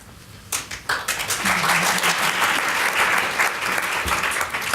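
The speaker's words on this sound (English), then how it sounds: "it's nice to have an applause before I've even done anything" Loud applause from the audience at a health equity panel event fills the room, a dense, sustained wash of clapping that starts abruptly and carries on without a break.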